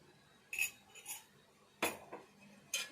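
A spoon clinks against a bowl while mixing spices and curry leaves, a few sharp, separate metallic taps and scrapes against a quiet background.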